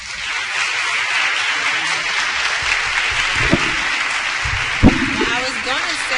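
An audience breaks into sustained applause, a dense even patter of many hands clapping throughout, with a couple of sharp bumps near the end and a voice faintly underneath.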